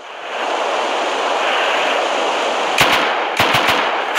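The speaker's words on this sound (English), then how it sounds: "I'm gonna have to activate the turrets" Automated turrets open fire in the survival game Rust, with a few sharp rapid bursts of gunfire cutting through a loud, steady wind-like roar near the end.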